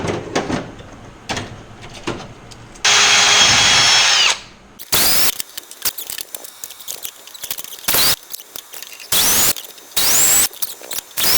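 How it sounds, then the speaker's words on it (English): A drill bores out holes for a forward torque tube bearing on a Zenith 750 Cruzer aircraft, in bursts, one long loud run in the middle and many short stop-start whines, with clicks and rattles between. "the rest of this video is just going to be me drilling out these holes"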